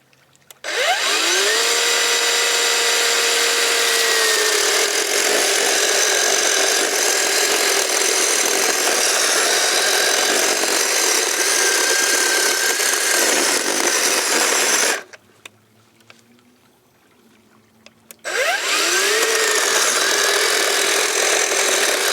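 Black & Decker 40V cordless chainsaw cutting through a log, a loud steady electric whine for about fourteen seconds, then a brief pause and a second run-up as the saw bites back in.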